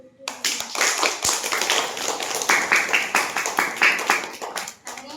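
A group of children in a primary school classroom clapping together, a brisk burst of hand claps that swells into rhythmic waves before fading out.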